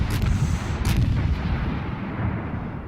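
Heavy naval guns booming in World of Warships battle against an enemy ship, two quick loud blasts followed by a dense rumbling roar that fills the clip, no talking.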